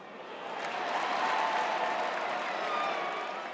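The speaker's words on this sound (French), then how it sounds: "la foule, de plus en plus nombreuse des admirateurs, scande le nom de la vedette" A growing crowd of admirers outside an event cheers and chants for a film star, a broad, dense roar that swells in over the first second and holds steady throughout.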